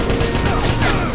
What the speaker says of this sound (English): Watch out! Particle cannon!